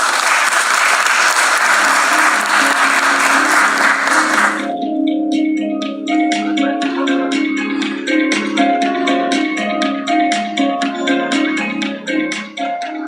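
A crowd at an IPO stock exchange listing ceremony breaks into a loud, sustained round of applause for several seconds, then the clapping drops away and music with light rhythmic claps carries on.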